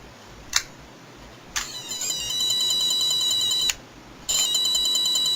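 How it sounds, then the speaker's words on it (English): An electronic Power Morpher toy beeps and warbles in bursts when its button is pressed, with a sharp click before each, a steady buzzy tone that cuts off briefly then resumes. "When you press the button, it made this noise."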